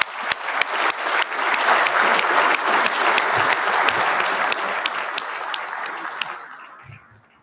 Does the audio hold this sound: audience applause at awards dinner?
yes